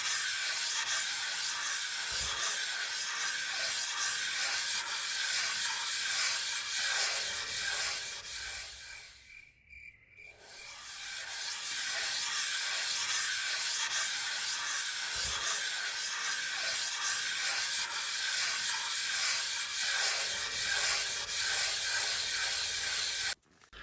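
Wet and dry abrasive paper rubs steadily by hand across a metal tailstock chuck part, a close continuous hissing scrape that pauses briefly midway and then resumes.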